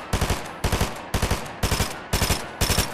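Rapid bursts of automatic gunfire in the video game Fortnite come in about six evenly spaced volleys of three to four shots each, loud and close, with no voices over them.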